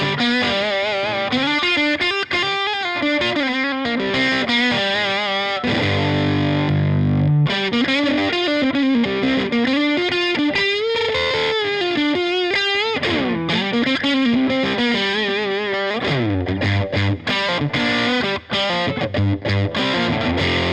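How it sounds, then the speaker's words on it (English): An electric guitar runs through a Chevtone Honeyburst overdrive pedal with the gain just past halfway and a little added brightness, breaking up into a fuzzy grind. It plays a busy, continuous melodic line, loud and alone, for about twenty seconds. "you can hear it's just starting to break up into like a silicone fuzz kind of thing"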